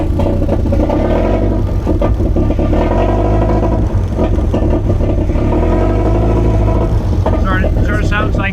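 Massive two-stroke engine of a 1910 Atlas Touring car running loud and close, a dense rumbling drone with rises in revs, and voices talking over it.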